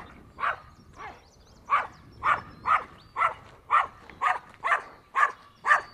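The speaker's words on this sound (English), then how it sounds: "Can I say hi to your dog?" A dog on a bridge over water barks about a dozen times in a steady, evenly spaced run. The barks are close and loud, with no talk over them.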